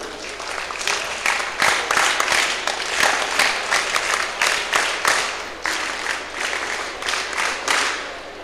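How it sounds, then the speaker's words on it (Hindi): An audience of about 300 people claps steadily and loudly for several seconds, a dense, even burst of applause with no talk over it. "वो इसका नाम के लिए तालियां बजाओ"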